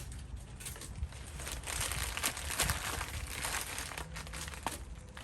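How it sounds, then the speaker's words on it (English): Masking tape peeled off the painted sail panel of a 1999 Escalade, heard as a close, continuous crinkling, tearing rasp with small sharp snaps along the way. "always pull the masking tape away from the paint if possible"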